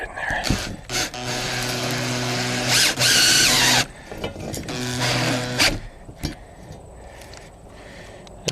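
A cordless drill with its clutch set drives a lag bolt while a minisplit is being mounted, giving two loud whirring, grinding bursts with a ratcheting clatter, separated by short pauses and followed by quieter handling clicks.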